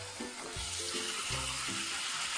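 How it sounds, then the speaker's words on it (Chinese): Chicken breast laid cut side down in a preheated pan with vegetable oil, sizzling and crackling steadily up close, with a few low bumps of the pan or utensils; no talking. "把鸡胸肉切面朝下放入锅中，"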